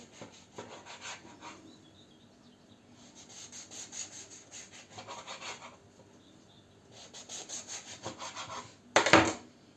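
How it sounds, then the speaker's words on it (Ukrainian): A knife cuts crisp wafer sheets into pieces for a holiday snack, making soft rasping, crunching strokes in repeated bursts with quieter pauses between them and one sharper crack near the end. The sound is close, with no talk. "тепер беремо ці вафлі і будемо нарізати на такі"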